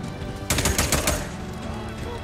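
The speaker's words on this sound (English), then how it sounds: "Is there someone shooting from higher up?" Gunfire from a shooter positioned above in the video game Days Gone, a rapid burst of several loud cracks followed by a lingering noisy tail.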